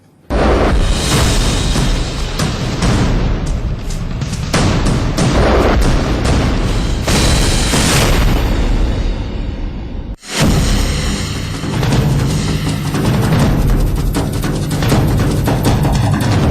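Loud, continuous Diwali firecracker explosions crackle and boom without pause in Delhi, with a brief break midway before the barrage resumes.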